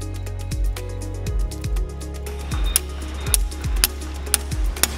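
A joining pin is pressed into an MT900 trencher chain during workshop assembly, giving a series of close metallic clicks and taps with sliding, ratchet-like tones at a steady, uneven rhythm.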